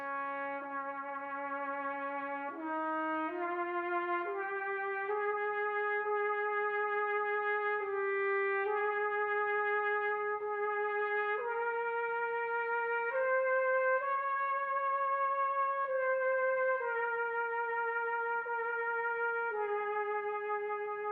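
Solo trumpet plays a slow hymn melody, number 3 from the Red Book hymns, with vibrato on sustained notes; clear and moderately soft, about a dozen held notes stepping up and down with no accompaniment.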